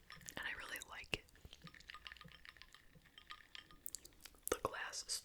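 A glass straw clinks against a drinking glass in a few sharp, light taps, close and quiet, among soft whispering and eating sounds.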